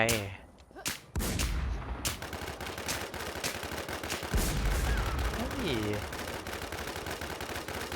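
Player gunfire in a video game comes as dense, loud, repeated bursts of rapid shots with a few sharp single cracks, while someone talks over the shooting.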